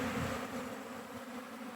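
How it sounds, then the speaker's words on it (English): A dense swarm of bees fills the air with a continuous low buzzing, close and steady for a brief moment, with no voices. "Lots of bees. Lots of bees."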